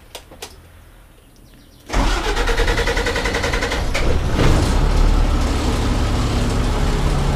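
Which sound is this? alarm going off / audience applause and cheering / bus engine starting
bus engine starting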